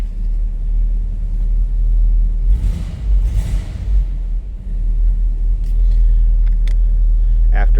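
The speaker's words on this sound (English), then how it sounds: "All right, there it is, that 365 cubic inch V8 fired up." A 1958 Cadillac Series 62 hardtop sedan with a 365 cubic inch V8 idles with a loud, deep, steady low rumble, swelling briefly midway, while a voice speaks faintly over it.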